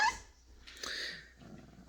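A Cane Corso gives a few faint, short barks and yips close by, broken by brief pauses in a quiet room.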